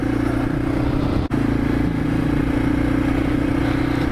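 A small off-road vehicle's engine drones loud and steady throughout the ride, with a rough mid-pitched rumble and a brief clunk partway through.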